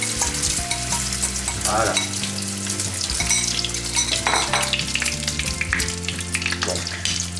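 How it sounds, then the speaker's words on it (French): Thai omelette egg mixture poured into hot peanut oil sizzles and crackles loudly and steadily, with a few clinks of a utensil against the pan and a brief spoken word. "ça commence déjà à bien grésiller."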